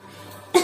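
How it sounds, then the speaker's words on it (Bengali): A single short cough bursts out near the end after a quiet stretch, close and fairly loud, from a child pretending to be sick while playing doctor. "আমার না খুব কাশি হয়েছে"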